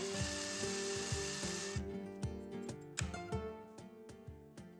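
A drill bores into aluminum extrusion held in a drilling jig, and a chamfering bit may follow. A loud steady hiss stops partway through, leaving repeated close metallic scraping bursts in an irregular rhythm.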